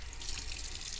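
Tap water runs steadily into a sink during handwashing for perineal care, a continuous broadband splashing rush with no voices.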